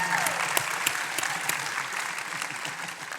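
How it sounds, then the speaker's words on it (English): An audience at a national member meeting claps in sustained applause, dense and even throughout, with no voices over it. "I think that deserves a round of applause"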